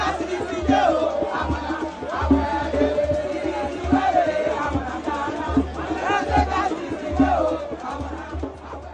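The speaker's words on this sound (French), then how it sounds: "Chacun applaudit, chante et transforme la visite en véritable célébration populaire." A large crowd cheers and sings together during a presidential visit to a district, a loud, steady wash of many voices with rising chant-like swells across the whole stretch.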